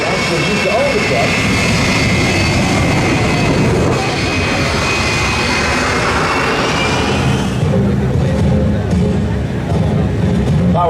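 A large jet aircraft with four General Electric F118-GE-100 engines, each producing 17,300 pounds of thrust, at an Air Force base air show, roaring loud and steady throughout and easing slightly toward the end, with crowd noise beneath.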